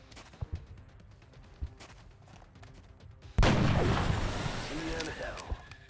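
Gunfire from the XCOM Enemy Within strategy game: a sudden loud, sustained blast of shot noise erupts midway and rumbles on to the end, following a quieter stretch with sparse clicks.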